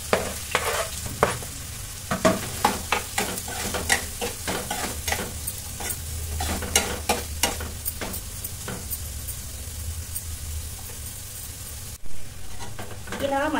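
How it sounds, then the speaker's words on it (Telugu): Chopped onions and green chillies stir-fry in hot oil for a goat brain masala fry, with a bright, close sizzle. A busy run of quick spatula scrapes and knocks sounds over it, thinning out toward the end. "ఇలా మధ్య మధ్యలో కలుపుతూ ఆనియన్స్ కాస్త కలర్ మారేంత వరకు ఫ్రై అవ్వనివ్వాలి."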